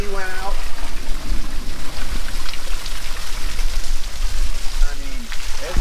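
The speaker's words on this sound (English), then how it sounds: "I mean, it's like torrential downpour." Torrential downpour pours steadily throughout a thunderstorm, a loud continuous roar of rain close by, with brief voices in the background.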